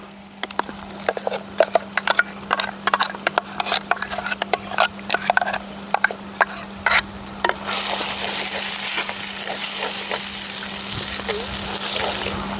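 A spoon knocks and scrapes rhythmically against a pan of fried onion and tomato, then a louder, broad sizzle rises as masala is added and keeps frying steadily.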